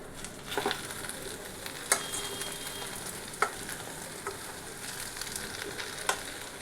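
Ghee goes into sabudana pulao sizzling in a pan, giving a soft, steady frying hiss with a few faint clinks from a spoon, fairly quiet throughout.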